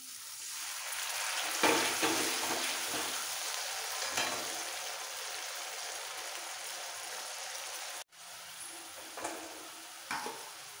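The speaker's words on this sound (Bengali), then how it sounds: "পেঁয়াজ বাটাটাও ভেজে নিতে হবে, একদম তেলের সাথে মিশে যাবে" Onion paste frying in oil in a pan for a pomfret fish curry, a soft continuous sizzle with stirring scrapes, briefly cut off near the end before resuming more faintly.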